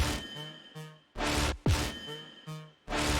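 Choppy synth bass notes pulse in short bursts with gaps between, carrying a bright metallic ring and a quick echo-like texture; no voices.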